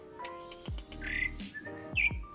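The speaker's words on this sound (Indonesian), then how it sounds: "Tuh, oh di sini ada burung." A bird chirps and whistles close by at a horse riding stable in Semarang, a few quick calls with short sharp squeaks between them, heard on its own.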